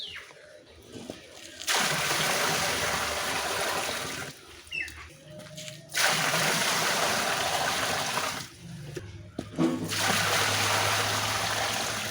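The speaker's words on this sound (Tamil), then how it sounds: "இதில் கொஞ்சம் தண்ணி ஃபில் பண்ணணும்." Water gushes and splashes into a tank for tilapia fish in three loud, sustained bursts separated by brief pauses, close by, like a flow pouring into a container.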